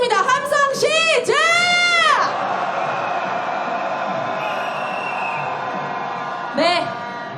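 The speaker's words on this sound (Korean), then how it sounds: "탄핵에 대한 함성 들어보겠습니다." A large street crowd at a Seoul candlelight rally calling for President Yoon Suk-yeol's impeachment shouts and cheers: rising whoops and piercing whistles open over a loud sustained roar, which continues steadily before another brief whoop near the end.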